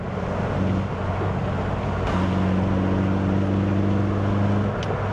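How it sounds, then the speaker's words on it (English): A car with an A-Series engine drives in fifth gear, a loud, steady, low engine drone with road noise heard from inside the cabin. A slight shift in pitch comes partway through, and nobody speaks. "it's just the nature of this engine is more, it's much more barky than the old one"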